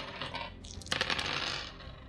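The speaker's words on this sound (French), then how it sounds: "nous allons prendre nos 6 dés respectifs." Six dice tossed together onto a table in a Warcry tabletop wargame make a quick, bright clatter as they bounce and settle. The sound is close and stands alone.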